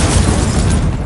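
Incendio fire spell from Hogwarts Legacy erupting as a loud, broad whooshing blast that fills the whole second, a dense roaring burst with no voices over it.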